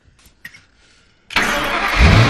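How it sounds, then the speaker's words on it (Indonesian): A car engine cranks and catches after a key turn, then runs roughly for a few seconds. Faint clicks and rustling come first, then a sudden loud, steady engine roar with a low rumble building toward the end. "mobil itu sempat menyala tapi hanya dalam beberapa detik aja"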